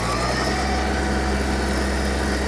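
A Japanese Hitachi CX-150 mini tractor engine runs at full throttle, producing a loud, steady, close drone with deep rumble and vibration throughout, with no speech.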